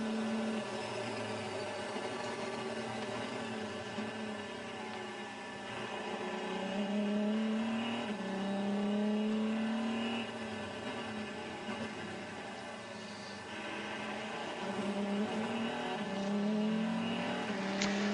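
Onboard engine of an Audi e-tron Quattro race car at Le Mans, a loud continuous droning whine that rises and falls in pitch through gear changes and acceleration, heard alone with no commentary.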